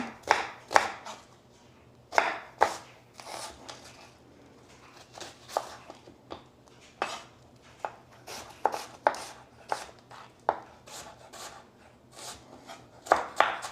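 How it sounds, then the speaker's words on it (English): A kitchen knife chops onions on a cutting board with sharp, irregular clacks coming in bursts, some strokes louder and others quick and light, close up in a quiet room. "I'm going to cut these onions up for my sausage gravy"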